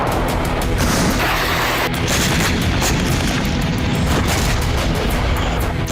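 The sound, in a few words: explosions of Russian bombardment of Sudzha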